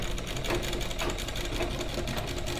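A sewing machine stitching a salwar seam, a continuous fast mechanical whir with a rapid rhythmic needle chatter, loud and close, with no speech.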